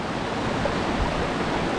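Continuous rushing water of a waterfall in Thailand, a steady broadband roar at moderate level with no voices.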